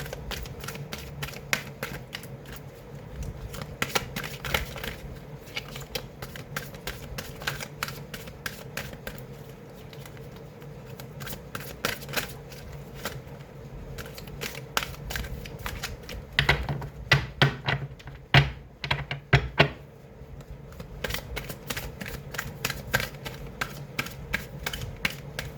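Oracle cards being handled, shuffled and picked from a deck during a pick-a-pile reading, giving a steady run of soft papery flicks and taps with brisker clusters of card snaps near the middle.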